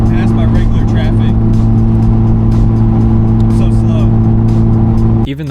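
Steady engine drone from inside a cheap Mazda Miata on a hot valley highway road trip while other road traffic passes, with a continuous loud hum and a few brief whooshes of vehicles going by.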